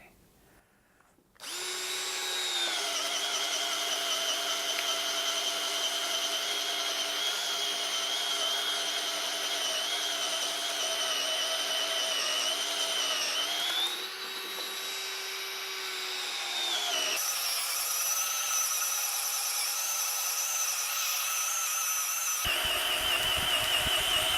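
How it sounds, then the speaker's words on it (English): A Bosch cordless drill with an auger bit runs nonstop for over twenty seconds boring into a wooden post, its loud motor whine shifting pitch under load as the bit chews through wood. "So same post, same auger bit, same test, 2 minutes drilling, see how we get on."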